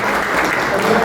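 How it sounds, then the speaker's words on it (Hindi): An office party audience in Raipur applauds together, a steady, dense wash of clapping that holds evenly throughout the short moment. "सबसे पहले तो आपको एक बार फिर से अपने लिए एक बार ताली बजा दीजिए"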